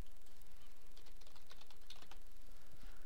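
Quick keystrokes on a computer keyboard, a brief cluster of close, light clicks over a steady background hiss.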